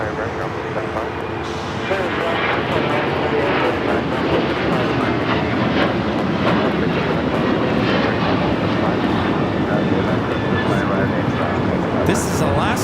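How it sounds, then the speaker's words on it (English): An Alaska Airlines Boeing 737-900ER takes off from LAX, its broad, steady engine roar loud and continuous, with a voice talking over it and faint clicks in the background. "This is Alaska Airlines 1418 taking off to Guadalajara on the 737-900ER"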